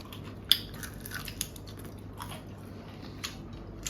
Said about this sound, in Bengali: দারুণ ফ্রাই করেছে তো, কুড়মুড় কুড়মুড় আওয়াজ হচ্ছে